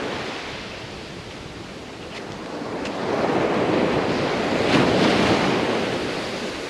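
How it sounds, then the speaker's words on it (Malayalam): Sea waves breaking along the shore under gusting wind, recorded on a GoPro Media Mod microphone, giving a broad steady hissing roar that swells louder midway, with wind buffeting the mic throughout. "കടലിൻ്റെ ശബ്ദം ഓഫ് കോഴ്സ് തിരമാലകളുടെ സൗണ്ട് ഉണ്ടാവും, പക്ഷെ അതിൻ്റെ കൂടെ തന്നെ കാറ്റ് വീശുന്ന ശബ്ദം ഡിസ്റ്റർബൻസ് ആയിട്ടൊരു ഹിസ്സിങ് സൗണ്ടായിട്ട്"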